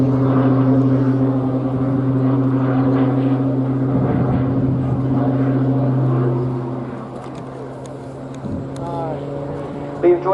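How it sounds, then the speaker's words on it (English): RNAS Yeovilton display aircraft pulling up into a knife-edge during an aerobatic routine at an air day, a loud steady droning engine tone that fades somewhat toward the end, with crowd noise faintly underneath. "Now pulling up and putting the aircraft on a knife edge before feeding in some top roller to keep the aircraft pointed skywards."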